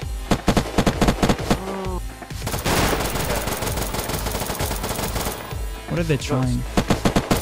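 Gunfire in the video game Unturned, modded server: rapid close gunshots and sustained automatic bursts, loud and sharp, with a player talking over the shooting.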